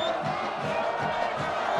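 Hometown crowd at a Broomfield high school football game in 2009, a dense, steady roar of many voices with rhythmic chanting pulses, heard from within the stands.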